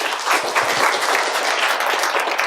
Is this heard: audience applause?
yes